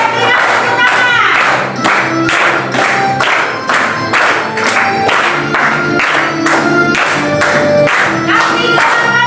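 A class of students claps hands together in a steady, loud rhythm, each clap landing evenly spaced and close, sustained without pause for several seconds, with faint voices mixed in.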